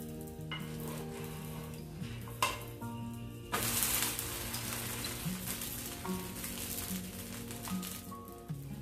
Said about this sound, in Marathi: हे डोसे आपल्याला लो टू मिडियम फ्लेमवरच भाजून घ्यायचे आहे